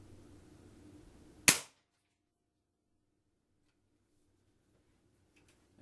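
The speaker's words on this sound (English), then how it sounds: "And pull the trigger." A Hatsan 95 .177 break-barrel air rifle fires a pellet: one sharp, loud close crack that cuts off quickly into near silence, followed by a faint click.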